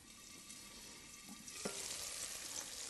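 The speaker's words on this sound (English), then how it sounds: "You can hear it sizzling along." Soft, steady sizzling of garlic and onions browning in a Sage Risotto Plus multicooker pot, a faint crackle building slightly partway through.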